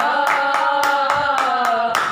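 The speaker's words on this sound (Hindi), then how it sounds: "ताली बजा के" Steady rhythmic hand clapping keeps time at a regular beat over a sustained musical accompaniment during a devotional song, with roughly eight sharp claps over about two seconds.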